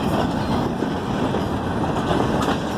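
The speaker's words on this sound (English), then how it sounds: "5 tank cars, mostly box cars." A freight train of tank cars and box cars rolls past nearby, a steady rumbling roar of wheels on rail with faint clattering, holding loud and even for the whole stretch.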